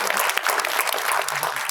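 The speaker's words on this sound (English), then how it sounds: "let us give big round of applause for all of them" Audience at REVA Business School claps in a dense, steady burst of applause, close and continuous.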